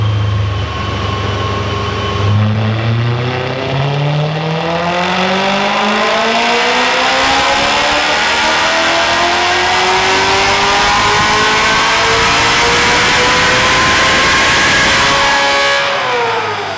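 A BMW E90 M3 with its exhaust valves opened revs hard and loud, the engine note climbing steadily in pitch over about fifteen seconds before dropping off at the end, heard up close with no talking.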